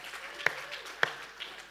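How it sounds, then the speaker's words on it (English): Audience applause at an Aspen Institute anniversary event, a short burst of clapping with a couple of sharp, close claps standing out. "Can we give a round of applause?"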